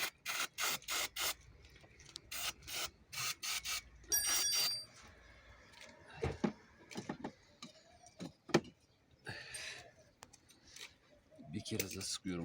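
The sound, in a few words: spraying brake cleaner spray on engine throttle body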